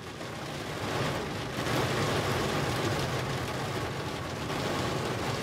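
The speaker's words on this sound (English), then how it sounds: "It is pouring down." Steady, dense rain pours down in a constant loud hiss, heavy and continuous throughout with no voices.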